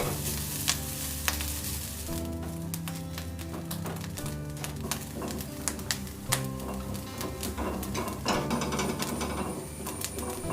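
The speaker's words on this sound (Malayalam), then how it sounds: "തേങ്ങ നല്ലോണം ചുമക്ക വറുക്കണം." Grated coconut dry-roasts on low heat in a pan, steady dry sizzling and crackling with scattered scraping clicks of stirring throughout, close and continuous.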